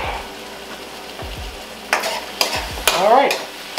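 Mushrooms cooking in a pan as their liquid cooks off, a low bubbling sizzle broken by several loud scraping stirs of a utensil against the pan, close up and without voices.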